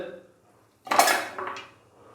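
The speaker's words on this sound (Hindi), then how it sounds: "सबसे पहले मैं प्रेशर कुकर के अंदर मटन का गोश्त डालूंगा।" Bone-in mutton pieces cut for karahi drop into a metal pressure cooker with a sudden close clatter and clank of metal, followed by a softer second clunk, then quiet.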